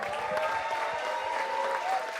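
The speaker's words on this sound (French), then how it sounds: "Encore une fois, applaudissements pour eux, s'il vous plaît." Brief steady applause from the audience at the NRJ Antilles 2025 awards ceremony, dense clapping with a faint voice mixed underneath.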